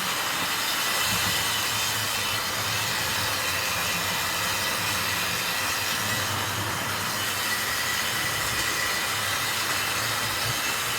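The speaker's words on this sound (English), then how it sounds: "I can even hear the wheels on the coaches today over the noise of the engine" Steady rumble of a Wrenn model train engine with the rattle of coach wheels running over track, continuous and fairly close, no voices.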